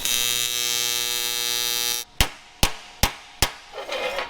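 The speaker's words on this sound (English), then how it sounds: "So now we'll weld it." A steady electric buzz from a welder working on sheet metal of a 1976 AMC Pacer runs for two seconds, followed by four sharp, evenly spaced metallic bursts as short tack welds strike, close and loud.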